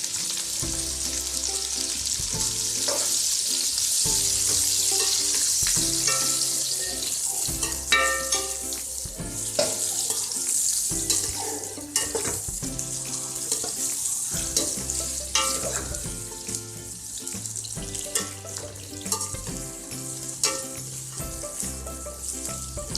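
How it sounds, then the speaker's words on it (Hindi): Onions fry in hot oil in a pan after okra has been removed, a dense, steady sizzle running throughout with a few spoon and pan clinks, no talking. "अब हम प्याज फ्राई कर लेते हैं। प्याज डाल देती हूँ।"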